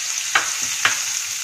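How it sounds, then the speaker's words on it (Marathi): Onion frying in butter in a pan for pav bhaji, a continuous bright sizzle with two sharp scrapes of a stirring spoon, close. "बटर घालूया, यामध्ये कांदा घालूया"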